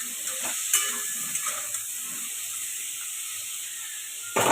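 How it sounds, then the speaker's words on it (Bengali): Pointed gourd (potol) pieces seasoned with salt and turmeric fry steadily in a pan, giving a continuous soft sizzle with a few faint clinks of stirring and a louder scrape near the end. "পটলটা ভাজা হচ্ছে।"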